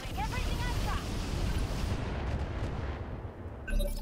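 Weapons fire in the mech combat video game Roguetech, a dense, rumbling barrage of heavy booming shots and blasts filling the scene, with a voice talking over the gunfire.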